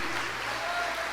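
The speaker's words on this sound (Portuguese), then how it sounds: "A igreja aplauda pelo amor de Deus" A church congregation applauds, a short, dense spell of many hands clapping together with crowd noise, steady and full, heard without a clear voice on top.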